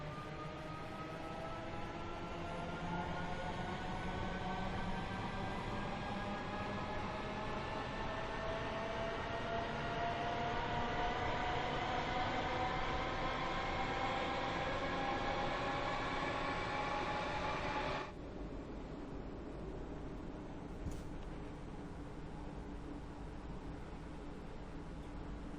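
A passenger train on the Cathcart Circle line runs through a tunnel near the terminus, a loud, steady rumble with rising whine and screeching wheel tones for about eighteen seconds, then cutting to a quieter hollow roar.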